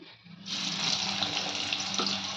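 Chopped bitter gourd dropped into hot oil, a sudden loud sizzle that starts abruptly and keeps crackling steadily close up, with a faint clink partway through.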